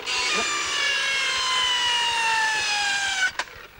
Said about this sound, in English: the new magician saw for sawing something up